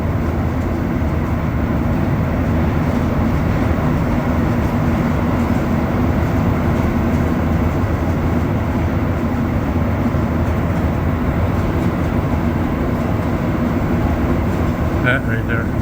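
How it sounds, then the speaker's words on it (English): A train rumbles steadily along the tracks, with a constant loud roar and clatter that stays even throughout. "That right there, you can see the rest of our train."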